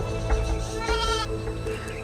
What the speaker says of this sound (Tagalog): Kambing namin yan ah!